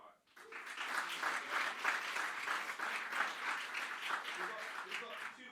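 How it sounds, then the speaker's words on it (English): Audience applause fills the room at a 99-second pitch competition. Dense clapping rises quickly and holds steady for several seconds, with some voices mixed in. "So round of applause for everybody that took part."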